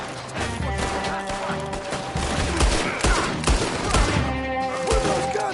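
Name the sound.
gunfire in Red Dead Redemption 2 video game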